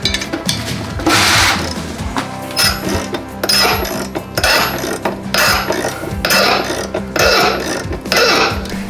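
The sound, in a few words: wrenching a stuck part loose after heating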